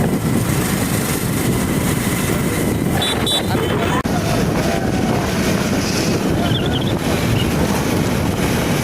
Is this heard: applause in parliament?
no